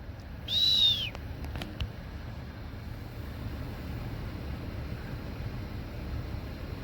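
An eagle calls once, outdoors on a snowy February day: a single brief, high, thin cry that slides downward, followed by several seconds of steady low outdoor background noise.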